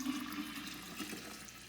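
Cooled brewed tea pours from a container into a kombucha starter with its SCOBY, a continuous splashing stream of liquid heard close and alone.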